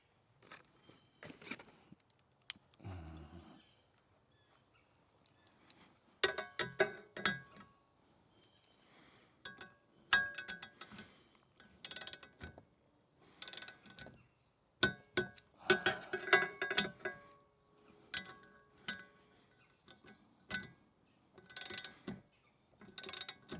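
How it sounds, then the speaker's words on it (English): A torque wrench tightening the bolts on a Freedom Launcher bracket fitted to a Frontier 12 kayak: scattered faint metallic clicks, ticks and clinks come in uneven bursts, with quiet gaps between them. "18 foot-pounds of torque for these bolts, just these bolts that hold the freedom bracket together."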